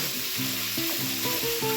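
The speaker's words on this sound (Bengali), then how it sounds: "এগুলো হালকা ফ্রাই হোক" Finely chopped ingredients including ginger frying in a pan on a gas flame turned high: a loud, continuous close sizzle with faint stirring scrapes beneath, no talking.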